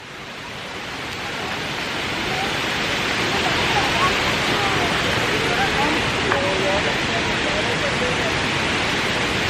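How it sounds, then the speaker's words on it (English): A waterfall in Bellevue Downtown Park rushes as a steady, broad roar, swelling slightly after the first seconds and staying loud and continuous throughout. "we got some waterfall action going on behind us"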